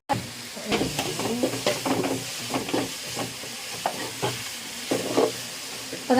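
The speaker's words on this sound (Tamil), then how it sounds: "இப்போதான் இஞ்சி பூண்டு பேஸ்டே போடுறேன்." Ginger garlic paste fries in a pan for a chicken biryani, giving a steady close sizzle broken up by scraping stir strokes, with a few short voices in the background.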